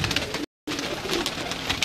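Pigeons cooing steadily on a rooftop loft where a flock of racing birds is kept, soft throaty calls overlapping throughout with a brief silent gap near the start, no talking.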